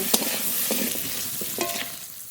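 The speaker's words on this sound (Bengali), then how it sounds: "আলু এবার খুব ভালো করে ভেজে নেব" Cut potatoes frying in a pan with salt and turmeric, a soft sizzle broken by a few sharp stirring scrapes.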